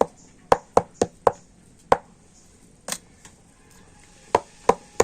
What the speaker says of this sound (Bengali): বাটিগুলোকে একটু এরকম ঠুকে আর ব্যাটারটাকে উপর থেকে খুব সুন্দর করে সেট করে দিতে হবে